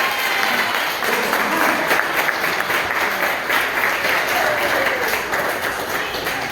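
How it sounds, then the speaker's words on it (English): A crowd claps continuously at a birthday celebration, a steady wash of many hands applauding at moderate level throughout. "I need y'all to clap it up for her right now."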